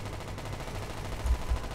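Rapid gunfire in the futuristic shooter Battlefield 2142 during Titan mode, a steady low rumble of shots with two heavier thuds near the end, moderately loud with no talking.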